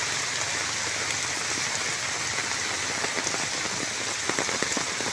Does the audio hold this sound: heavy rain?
yes